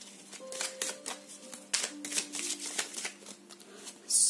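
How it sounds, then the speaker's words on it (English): Cards drawn from a Rider-Waite-Smith tarot deck, a close run of soft papery slides and flicks with a faint tonal hum behind them. "I'll also be pulling some more cards from Rider-Waite-Smith Tarot"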